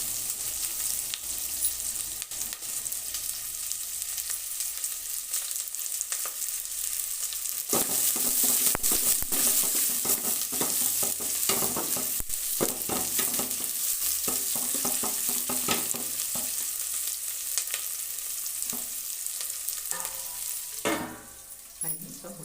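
Onion with chili powder and salt fries in a pan for an egg curry, a constant close sizzle broken by repeated clattering stirs and scrapes that grow busier midway, with no talking.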